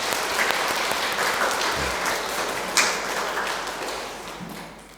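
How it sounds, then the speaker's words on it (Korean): A church congregation at a Korean Catholic Mass claps in warm, steady applause, fairly close and continuous, with a soft thump or two mixed in before gradually tapering off. "네, 박수."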